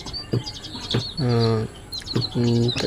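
A white-breasted waterhen chick calls in two drawn-out, tonal bursts, with a few sharp short chirps and clicks scattered around them. It sounds close and fairly clear, and no one speaks.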